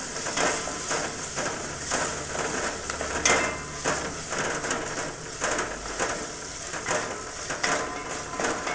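Tomatoes, chillies and fenugreek fry in a brass pot for a potato sabzi, a steady crackling sizzle broken by intermittent scraping stirs and clinks of the utensil.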